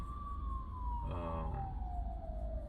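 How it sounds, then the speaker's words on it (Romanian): A distant ambulance siren wails in a slow falling tone over low, steady traffic rumble, heard from inside a Hyundai Bayon stopped with its engine off, faint but clear. "o ambulanță."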